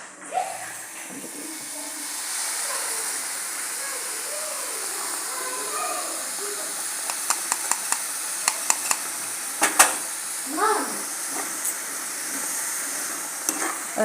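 Jaggery syrup boils down in a pan, bubbling and sizzling with a steady hiss, while a spoon stirs and scrapes against the metal in short, clinking strokes that grow more frequent toward the end.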